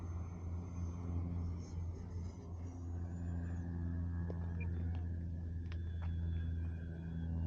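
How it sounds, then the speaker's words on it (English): A model turbine jet makes a low pass with its throttle chopped to idle, giving a steady droning rumble with a thin whine that rises and fades overhead. No one speaks over it. "It sounds cool when you chop the throttle to idle."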